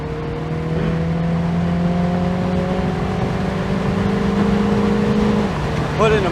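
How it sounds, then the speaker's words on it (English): A MINI Cooper S Convertible with a manual gearbox accelerating, heard from inside as a steady engine drone rising in pitch through a gear, then a brief shift and a fresh pull near the end. "Let's see how quick it goes."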